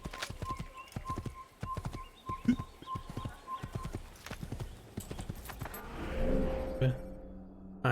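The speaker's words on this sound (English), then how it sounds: "Posso pegar meu cavalo, tá ligado?" Horse hooves clip-clop at a steady trotting rhythm in the Assassin's Creed video game, close and clear, with a brief neigh and game ambience layered in before the hoofbeats fade into rumbling background noise.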